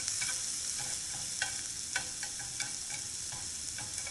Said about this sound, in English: Get the aroma of the shallots and the ginger to brown up and infuse the pan with flavor